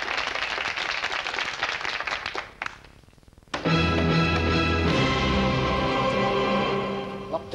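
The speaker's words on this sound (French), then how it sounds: "On l'applaudit." A French TV comedy audience applauds for a Beethoven moment: dense clapping for about two and a half seconds fades, then music enters and carries on alone.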